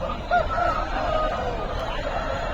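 An Aseel rooster at a busy chicken market lets out a short crowing call, moderately close, over steady crowd murmur and general market noise.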